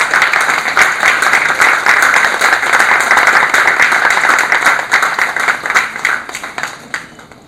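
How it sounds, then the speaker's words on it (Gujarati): An audience at a seminar on weaving technology applauds a guest being presented with flowers and a memento, dense steady clapping that fills the room and gradually thins out toward the end. "સૌને તાળીઓથી વધાવી દેવા વિનંતી."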